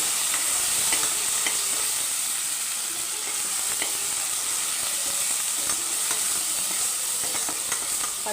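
Ginger garlic paste sautés in hot oil for a mutton curry. A steady, close sizzle and hiss runs throughout, with faint stirring scrapes now and then.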